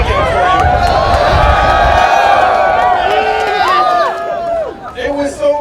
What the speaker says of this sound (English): Milton Friedman gets some applause.